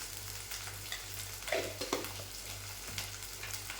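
Chili powder tipped into hot oil in a home kitchen gives a steady close sizzle, broken by a few sharp stirring clicks and scrapes, with no one talking.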